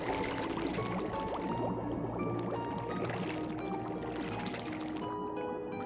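Underwater bubbles in the video game Yooka-Laylee, a dense, continuous gurgling and bubbling wash that stays steady and fairly loud throughout, layered with faint tonal game music.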